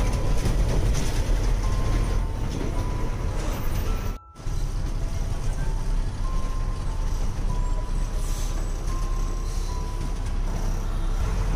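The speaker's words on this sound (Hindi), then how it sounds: "रतनगढ़ से चल के थोड़ा ही आगे आए हैं और ये यहाँ पर रेलवे क्रॉसिंग है।" At a railway crossing just outside Ratangarh in India, a steady loud rumble of passing rail or road traffic fills the scene continuously, with a brief dropout partway through.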